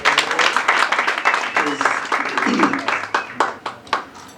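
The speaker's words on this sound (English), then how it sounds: "May we give her a round of applause" Lively audience applause at a 50th birthday celebration, a crowd clapping loudly and unevenly, with scattered voices and cheers mixed in before the claps thin out into a few separate slaps near the end.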